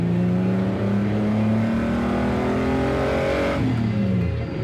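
Classic car engine revving, a loud steady drone that slowly rises in pitch, then drops away near the end, close by with no voices.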